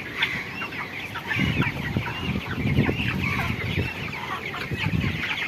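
A flock of 26-day-old broiler chickens clucking and murmuring close by, with overlapping chirpy calls over a steady barn background hum.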